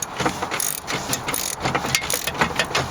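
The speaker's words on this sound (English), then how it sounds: "I'm going to use the extra torque you can get from a ratchet to kind of make it go in." A ratchet rapidly clicks while tightening a bolt inside a Chevrolet Cruze Gen 1 driver's door during window regulator repair, producing close, steady bursts of metallic ratcheting with brief pauses.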